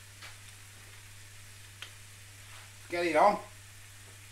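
Carrots and onions hit a hot pan with a brief burst of loud sizzling, preceded by a quiet steady hum, with a short spoken remark just before.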